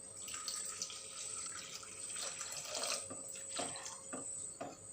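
Tap water runs steadily into a cooking pot for mango rasam with salt, tomato and mango, a close, continuous splashing stream with no talk.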